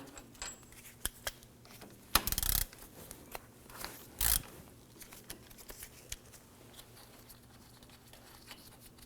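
Ratchet work loosening the bolts on the front knuckle of a 2015-2020 Ford F-150: two loud, brief bursts of rapid clicking, scattered faint ticks and clinks, and a low steady hum throughout.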